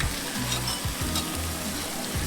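Sirloin steak cooking on a hot grill or pan at a restaurant in Japan, with a dense, loud, continuous sizzle and crackle close up, over a low drone of background machinery or voices.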